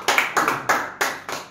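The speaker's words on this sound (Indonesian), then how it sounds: "Setuju tepuk tangan bagi Yesus." Hands clap in a small group of about six distinct, evenly spaced claps, loud and close, at a church service honoring Jesus, with no talk over them.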